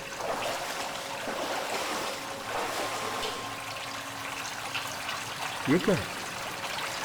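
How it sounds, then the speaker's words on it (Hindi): Water flows through a gutter inside a tunnel as a continuous trickling wash, heard under people talking, with a short louder splash near the end. "इस गटर का पानी इस तरफ जा रहा है"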